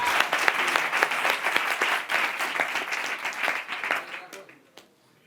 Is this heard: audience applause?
yes